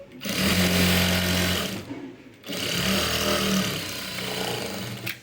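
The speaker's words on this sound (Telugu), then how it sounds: "ఇదంతా ఇలా క్లోజ్ చేసేసుకుని ఇంకో స్టిచ్ వేసేసుకోండి" A sewing machine stitches cloth in two close, loud sustained runs of rapid mechanical whirring, separated by a brief pause.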